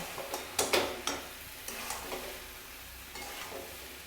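Fried potato and papaya go into a pan of vegetarian navratan korma, making soft sizzling with a series of light spoon knocks and stirring clatter, close and quiet with no talking.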